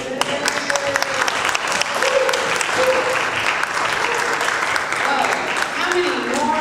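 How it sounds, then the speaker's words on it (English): Audience applause at a Fillmore community event in San Francisco, a sustained, dense wash of clapping from a sizeable crowd, with faint voices and cheers mixed in. "Give her a round of applause."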